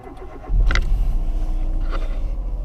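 Engine of a small Peugeot 107 hatchback rumbles steadily from inside the car, a low continuous drone that swells after a quiet opening with faint clicks on top.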